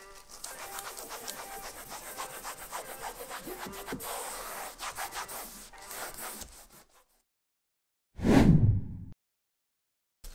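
A car dashboard being buffed by hand after a ceramic coating, heard as close rubbing and wiping strokes for several seconds, then a pause and a single louder swish near the end.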